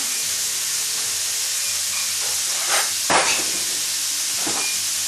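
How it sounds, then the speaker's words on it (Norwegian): Hamburger patties sizzle loudly in a pan of butter, a steady bright hiss with a few louder spattering surges as the hot fat is spooned over them, no voices. "Legger jeg litt mer smør i. Og så skal vi baste de litt grann."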